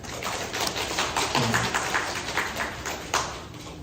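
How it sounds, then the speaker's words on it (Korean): A church congregation claps in welcome during a Sunday morning worship service, with steady, dense hand claps filling the room for several seconds and no one speaking over them. "우리 환영의 박수 칩시다."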